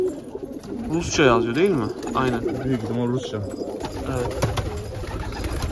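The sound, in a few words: pigeons cooing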